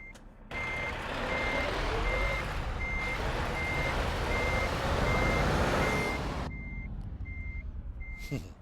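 Steady reversing beeps from a Scania R truck in Euro Truck Simulator 2, a regular pulsing tone over a constant loud engine rumble, continuing as the engine note shifts near the end.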